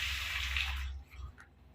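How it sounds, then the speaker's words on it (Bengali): Water gushes through a newly attached pipe in a loud steady rush, then drops off to a softer, uneven trickle. "পানি পাস হচ্ছে, আওয়াজ শুনতেই পাচ্ছ"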